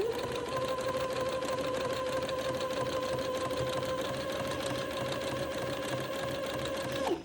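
A sewing machine runs steadily for about seven seconds, zigzag stitching a lace border onto a 3x3 grid for a funeral pall. The whir holds a constant, even hum with no talk, then stops abruptly at the end.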